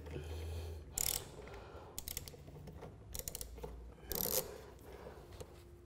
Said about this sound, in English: a 10mm socket on a ratchet. And it's a simple case of loosening the bolt on the back bulkhead